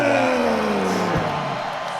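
A big, dense crowd roaring and cheering at an MMA event in Nashville, a continuous loud wash of voices with a few whoops, close and filling the space for the whole moment.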